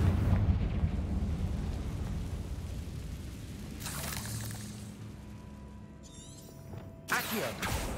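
The Confringo fire spell from Hogwarts Legacy goes off as a rumbling burst, followed by a sharper crackling blast near the end, over a low continuous game ambience.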